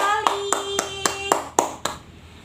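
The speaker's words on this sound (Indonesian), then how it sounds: "tepuk tangan untuk kelompok 1, sudah baik sekali." A primary school class claps for group 1 with seven evenly spaced, sharp claps in a steady rhythm, close and distinct, over a soft background tone.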